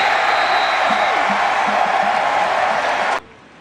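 Huge stadium crowd of over 100,000 at a Michigan college football game roaring steadily after a touchdown, a dense sustained wash of cheering that cuts off abruptly near the end.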